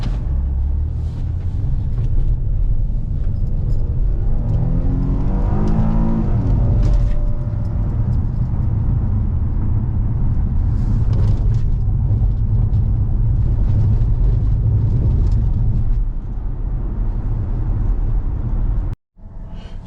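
A 2013 Ford Explorer police car cruising on the freeway, a steady loud engine and road rumble from inside the cabin, with a brief dropout near the end.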